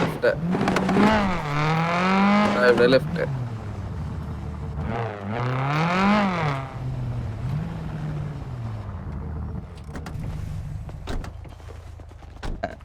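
A modified car in a roleplay video game revs its engine in two rising and falling sweeps, followed by a lower rumble with scattered sharp cracks from the exhaust.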